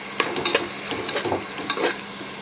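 Tomatoes with salt stirred in a pan over high heat, an utensil scraping and clinking in quick irregular strokes over a steady light sizzle, close by.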